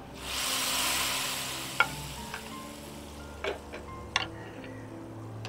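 Tempering sizzles in hot oil for a Kerala style chickpea curry, a soft steady frying hiss with occasional sharp clinks of a spoon against the pan, close and without talk.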